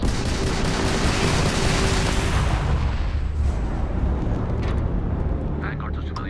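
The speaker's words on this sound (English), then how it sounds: "The ship's weapons are powering up." Spaceship weapons firing during a space battle in the Starfield video game, a dense, loud barrage of rumbling blasts and crackling bursts that thins out toward the end.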